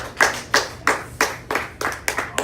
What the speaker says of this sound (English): let's please give a big round of applause to Miss Marilyn Canellis